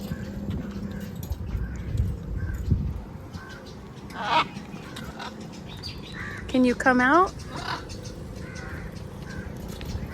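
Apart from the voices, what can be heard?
tropical birds calling on Maafushi island, Maldives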